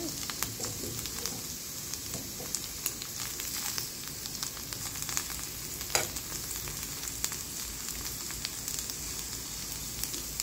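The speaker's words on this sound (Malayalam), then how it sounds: "വെണ്ടക്ക മൂത്ത് വരുന്നുണ്ട്." Okra (lady's finger) frying in a pan for sambar gives a steady, dense hiss of hot oil throughout, dotted with small crackles and a few sharper pops.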